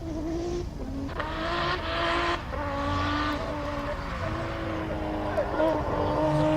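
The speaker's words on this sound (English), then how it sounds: "Don't think that's quite how you want to launch a car." A race car launches at the Simola hillclimb with a loud, continuous engine drone and shifting revs heard at a distance, while commentators talk over it.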